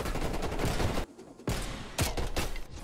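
Rapid automatic gunfire in Call of Duty Black Ops Cold War, loud and continuous, breaking off briefly in short pauses before resuming in dense bursts.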